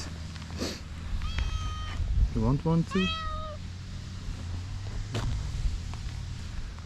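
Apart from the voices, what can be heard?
cats meowing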